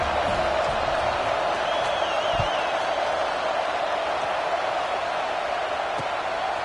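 Steady, distant roar of a college football stadium crowd during a kickoff, a constant dense murmur with no distinct cheers or bursts.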